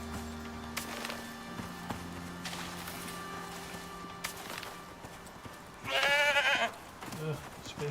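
Animal calls in the open-world survival game Icarus, with a short loud bleating burst near the end that fits goats, set over a steady game ambience with scattered clicks and soft thuds.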